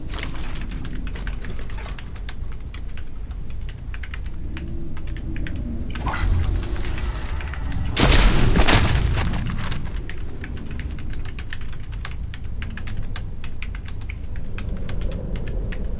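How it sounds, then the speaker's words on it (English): A character types on a computer keyboard in Beyond Two Souls, a steady patter of close key clicks running throughout, broken midway by a brief louder splashy burst before the typing resumes. "That's okay, just keep typing, it's fine"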